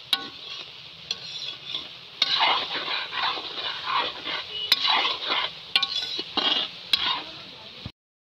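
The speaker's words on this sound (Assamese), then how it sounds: "বিন, গাজৰ, পিঁয়াজ এইবিলাক এতিয়া ভাজি আছে।" Beans, carrots and onions fry together for a large batch of fried rice, a steady crackling sizzle with intermittent sharp clanks of a spatula or ladle against the pan, close and fairly loud throughout, with no talking.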